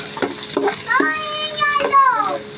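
Onions sautéing in a pan for pork dinuguan: a steady frying hiss with stirring scrapes and a few squeaky, tonal strokes of the utensil, close and moderately loud.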